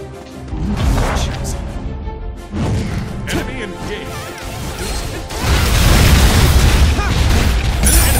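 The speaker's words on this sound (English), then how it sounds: "Explosion!" Heavy booming explosions erupt in the Hyper Universe video game, a couple of loud crashing bursts followed by a sustained rumbling blast that fills the final seconds.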